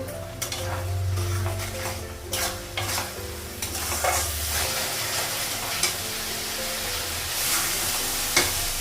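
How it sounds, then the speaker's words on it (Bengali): Spices frying in a pan on a raised gas flame, stirred with a utensil that scrapes and clinks against the metal in repeated strokes over a steady close sizzle, with no talking. "গ্যাসটা বাড়ালাম মশলাগুলো একটু ভেজে নেব"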